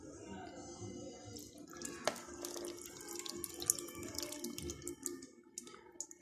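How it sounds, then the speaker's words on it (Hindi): Tamarind water trickles and splashes steadily into a bowl of chana chaat for several seconds, with a faint clatter partway through and a louder knock at the very end. "अब हम इसमें डालेंगे इमली का पानी।"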